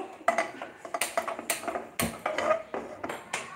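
Metal pan and utensils clatter on a stovetop during home cooking, a brisk run of sharp clinks and knocks close by, irregular and fairly quiet, with no talking.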